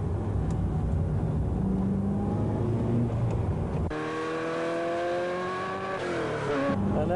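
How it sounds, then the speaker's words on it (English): A race car accelerates hard down the straight, its engine note climbing steadily through the gears with rising whines and a sharp shift partway, loud and close. "And now we'll be accelerating down the straight."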